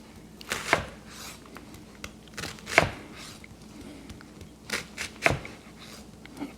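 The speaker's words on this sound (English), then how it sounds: "Here's our red onion. We're going to dice that up." A knife dices a half of a medium red onion on a cutting board in a quiet kitchen, giving scattered, crisp chopping strikes in small irregular bursts.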